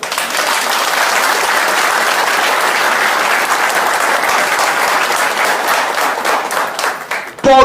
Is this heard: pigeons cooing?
no